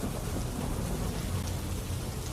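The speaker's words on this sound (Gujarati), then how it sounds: "ભરૂચમાં ભારે વરસાદ વરસી રહ્યો છે" Heavy monsoon rain pours down steadily in Bharuch, a dense continuous roar of downpour with a low rumble beneath, no voices.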